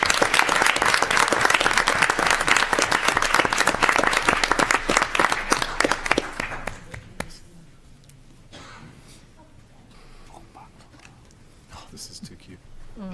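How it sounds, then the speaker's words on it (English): Dense audience applause at a city council meeting, loud and sustained for several seconds, then dying away to scattered claps and murmuring room noise with faint voices. "why don't we give them a round of applause as they come up"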